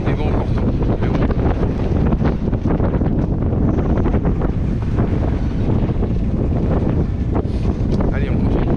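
Strong headwind roars steadily across the microphone aboard a sailboat, with water sloshing underneath in a constant, loud rush.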